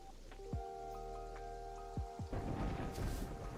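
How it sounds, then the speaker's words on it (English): Rain and rumbling thunder in the sandbox game Terraria, in a hardcore skyblock world. A steady hiss of rainfall swells in the second half under plinking tonal game notes, with a low rumble beneath and no voices. "Okay, thunder is bad."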